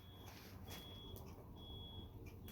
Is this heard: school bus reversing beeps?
yes